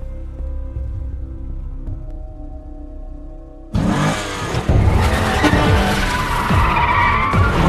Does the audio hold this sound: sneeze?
no